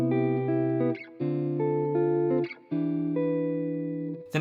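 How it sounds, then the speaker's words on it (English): Sustained jazz guitar chords in traditional grips, three held voicings struck one after another with short gaps between, clean and close with no voices. "If you're a little bit bored of the traditional jazz guitar grips that sound like this,"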